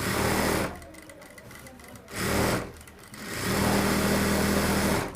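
An industrial sewing machine fitted with a presser foot stitches cloth in loud, steady bursts of motor whir. A run opens the clip, a short second burst follows, and a longer sustained run closes it, with quiet pauses between them.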